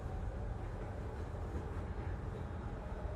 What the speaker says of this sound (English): we're taking this train for a journey